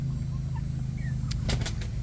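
Chickens in a backyard coop, with young birds mixing among the grown hens; a few short clucks and chirps sound near the end over a steady low background hum.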